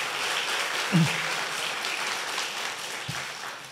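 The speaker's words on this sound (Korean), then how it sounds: "우리 다시 한번 힘차게 박수 한번 부탁합니다" Church congregation applauding after a choir's hymn, a steady wash of clapping from many people at moderate volume, with a couple of faint low knocks.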